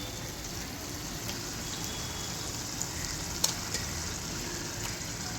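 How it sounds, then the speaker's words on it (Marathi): Shark meat pieces fry in hot oil in a pan, a steady soft sizzle and hiss running evenly throughout with a few faint clicks and pops, no voices. "आपण त्या तेलात भाजून घेऊया"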